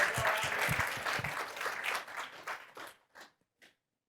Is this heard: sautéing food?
no